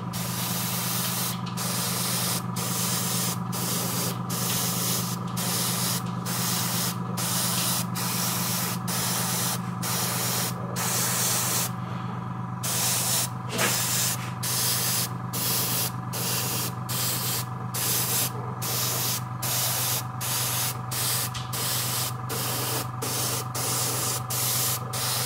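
A spray can coats miniature mud bases in a long run of short hissing bursts at a steady rhythm, close up over a constant low background hum.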